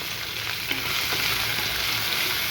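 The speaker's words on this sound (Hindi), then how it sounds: "हम अब इसमें डाल रहे हैं 2 मीडियम साइज़ के प्याज बारीक कटे हुए" Two medium onions, finely chopped, fry in hot oil in a pan, giving a loud, continuous sizzle with faint stirring and no speech.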